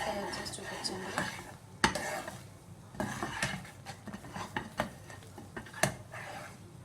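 Spoon scraping and stirring a thickening dry fruit sweet mixture in a pan, with soft clinks and faint sizzling in irregular strokes, quiet and close, under a low background voice.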